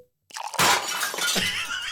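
A glass breaking sound effect: silence, then a sharp crash at about a third of the way in, followed by a sustained bright shattering and tinkling of fragments that stays loud to the end.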